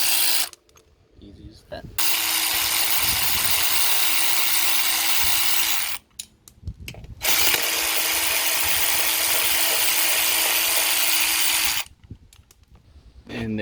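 A ratchet spins out 12mm bolts from the rear fender of a 1986 Kawasaki Vulcan motorcycle, giving two long, loud, steady runs of rapid clicking separated by brief gaps; someone speaks briefly at the end.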